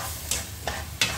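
Blended spice paste with shrimp paste being stir-fried in a pan, a soft continuous sizzle broken by three scraping stir strokes, faint and close.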